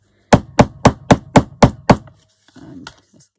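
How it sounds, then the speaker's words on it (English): Seven evenly spaced sharp taps from a small jewellery-making hammer striking crafted book-page paper, close and distinct, followed by a brief soft rustle. "get yourself a little hammer. Got my jewellery making one."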